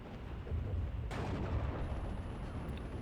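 Guns firing in the Steel Division real-time strategy game, including infantry guns shooting at a machine-gun position: one sharp report followed by a sustained rumble of battle noise, with no voices.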